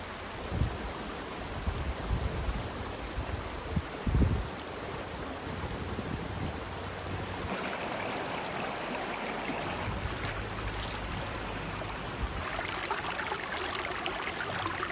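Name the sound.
stream water flowing near Dartmoor Inn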